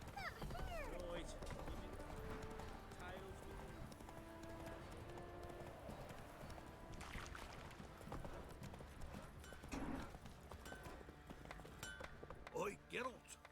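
Horse hooves clip-clopping in The Witcher 3, a steady close hoof rhythm over game music, with people talking over it.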